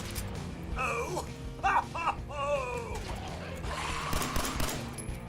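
Gunfire in Fallout 4, mixed in under a gasping, talking voice, with a few sharp bursts in the middle of the clip over constant background game noise.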